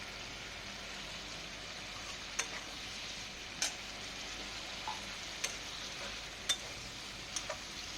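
Fried shrimp and mashed potato being stirred with a spatula in a pan, a soft continuous sizzle with several sharp scraping taps spaced across the clip, close and moderately quiet, with no talking.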